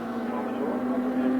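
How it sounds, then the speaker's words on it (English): A very light 850 kg racing car of about 180 brake horsepower, at a 1985 race meeting at Amaroo, holds a steady, sustained high engine note with little change in pitch across the moment. "listen to the revs from the little car as it's still on song"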